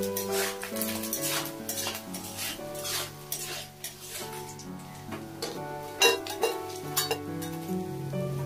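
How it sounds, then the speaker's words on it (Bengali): Dried loitta fish frying in oil in a pan while being stirred, with sizzling and repeated scraping and clinking of a utensil against the pan, heard under melodic background music with no talk. "কড়া করে ভাজা হয়ে গেলে একটু নুন দিয়ে আবার একটু নাড়াচাড়া করে নেব।"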